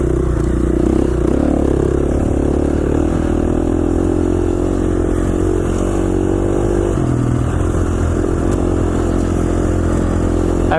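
Dirt bike ridden on snowy single track near Rabbit Creek, Idaho: a loud, steady engine drone close to the rider with shifting revs, along with wind rush and some clatter, running throughout without speech.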